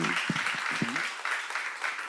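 Church congregation applauding during a sermon, a brief burst of clapping that follows a preacher's voice and fills the remaining couple of seconds at moderate volume.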